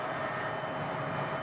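An Agusta 119 helicopter in steady flight, a constant loud engine and rotor drone with a faint tonal whine and no breaks.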